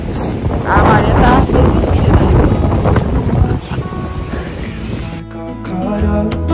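Wind gusting and rain falling outdoors in cold Copenhagen weather, a loud, rough rushing roar buffeting the microphone throughout, with a voice speaking under it and music coming in near the end.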